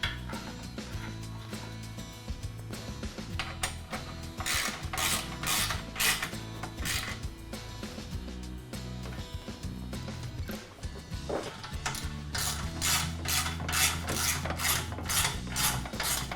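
A ratchet tightening a bolt during a MODZ tower top installation on a Club Car Onward golf cart, repeated rasping clicks in steady strokes, close up, pausing briefly midway before resuming.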